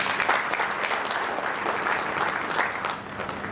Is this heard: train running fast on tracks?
no